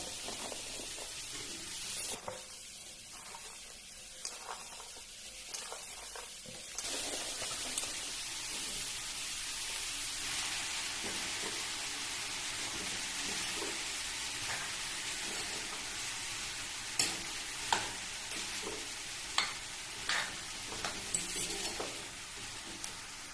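Flat beans and potatoes sizzle steadily in a pan, a soft continuous frying hiss with a few sharper pops and clinks toward the end, no voices over it.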